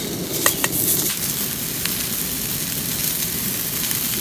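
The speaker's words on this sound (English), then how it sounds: "A bit of a sizzle there already." Food sizzles steadily in a frying pan over an outdoor campfire on a hill trail, a continuous close hiss with a few brief crackles near the start.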